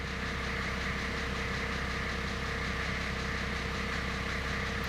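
Nissan Patrol TD42 turbo diesel engine idling after a swap, a steady, continuous low rumble with an even mechanical clatter that holds constant throughout, loud and near, with no voices.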